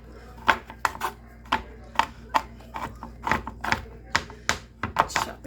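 Knife chopping food on a cutting board while making Nanaimo bars, a steady run of sharp close taps in an uneven rhythm, repeated about a dozen times.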